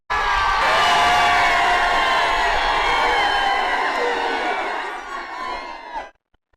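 A loud crowd cheers and whoops at a bullock cart race, the roar sustained for about five seconds before tapering off and cutting out.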